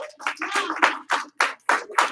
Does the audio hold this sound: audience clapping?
yes